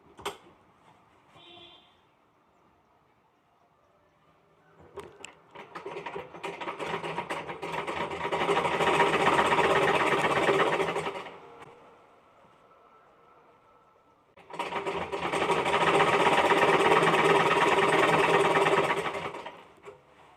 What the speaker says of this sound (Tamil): கடினமான பகுதியில் மெதுவாக அடிக்கணும் லைட்டாக அமுக்கி மெதுவாக அடிக்கணும்